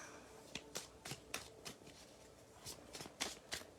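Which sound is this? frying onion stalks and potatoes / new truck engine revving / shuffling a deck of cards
shuffling a deck of cards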